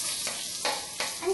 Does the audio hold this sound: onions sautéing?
yes